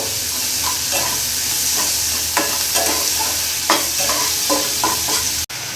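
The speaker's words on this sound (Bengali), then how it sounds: "এখানে একটা বড় সাইজের পেঁয়াজ কুচনো নিয়েছি, এটা আমি পুরোটা দিয়ে দেবো" A large chopped onion frying in a pan over a medium gas flame: a constant close sizzle with irregular scraping stirs running through it and a sudden short cut near the end.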